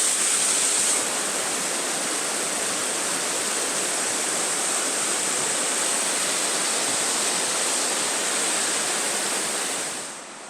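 A mountain creek runs over rocks in a steady, full rushing wash that holds constant and close for about ten seconds, with no voices, fading slightly at the very end.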